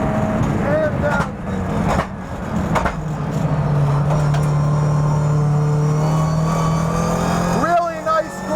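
A Toyota GR86 Cup race car's engine runs flat out on a track, a steady loud whine and rumble with rising and falling pitch through shifts, while someone talks over it throughout.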